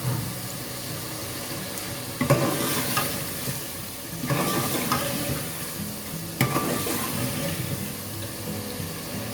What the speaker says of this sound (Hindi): हमें गोश्त को थोड़ा भूनना है।